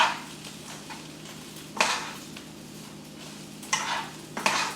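Spoon scraping and stirring seasoning through rice in a pot, with light sizzling and a few louder scrapes against the metal, close and alone.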